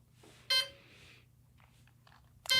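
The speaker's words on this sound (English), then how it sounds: "Our receiver is going to go into bind mode. As soon as I hear that beeping, there it is." Receiver of an E-flite Gee Bee R-2 RC plane beeping as it enters bind mode, two short sharp electronic beeps about two seconds apart with faint chirps between.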